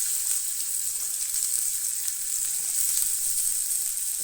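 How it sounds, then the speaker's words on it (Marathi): Onion frying in oil, a bright continuous hiss and sizzle, steady and close throughout with no talking. "हांव घालतलें तेल, तेच्या उपरांत कांदो"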